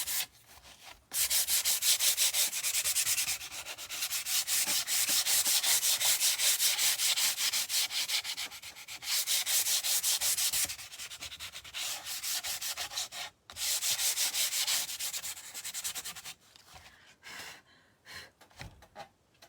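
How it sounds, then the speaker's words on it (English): A wooden sign is lightly sanded by hand in long, rhythmic scratchy strokes, loud and close, with brief pauses between passes and a softer, more broken finish. "I'm going to lightly sand this down."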